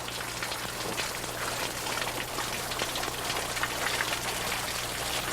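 Water flows from carved stone Inca ritual fountains in Peru, a steady rushing splash at an even, fairly loud level, with a faint low hum beneath and no voices.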